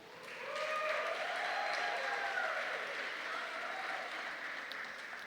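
A seminar audience at an education event on gender diversity applauds district coordinators, with steady, sustained clapping that swells early, stays full and then slowly thins toward the end.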